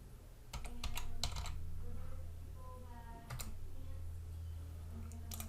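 Keystrokes clatter on a computer keyboard in quick clusters of sharp clicks, spread irregularly over a low steady room hum, fairly close but not loud.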